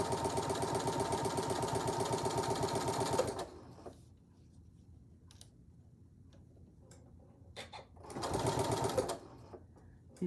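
A sewing machine stitches across a zipper pouch in two loud, close bursts of rapid, steady needle chatter, with a quiet pause of a few seconds between them.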